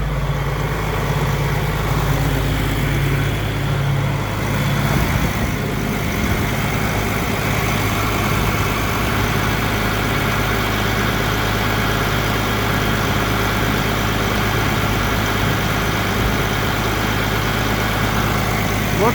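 A John Deere 4440 tractor engine held at a steady 1000 RPM, a continuous low, even diesel drone with no changes in pitch or loudness and no talk throughout.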